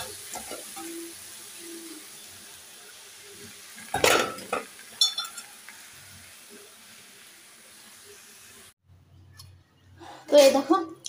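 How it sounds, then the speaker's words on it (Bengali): Onions frying in a hot pan over a flame while being stirred, a soft sizzle with sharp scrapes and clinks of a utensil against the pan, and talk in the background. "আগে নাড়াচাড়া করে দিই, পেঁয়াজ পুড়ে যেতে পারে নিচে গরমে"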